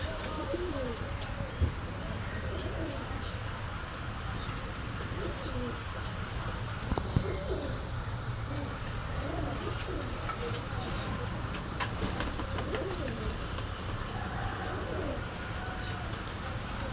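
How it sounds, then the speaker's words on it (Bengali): Pigeons coo softly and repeatedly at a pigeon sale, a low rolling murmur from several birds under steady background noise, with occasional chirps and people talking. "ভালো মানের কবুতর পুরনো ব্লাড লাইনের কবুতর"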